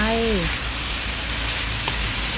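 Bean sprouts and sliced scallions stir-fry in a pan for Thai rolled rice noodles stuffed with tofu and minced pork, giving a steady close broadband sizzle throughout. A short voice opens the sound.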